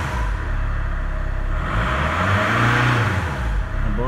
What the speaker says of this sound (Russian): Обороты набирает плавно.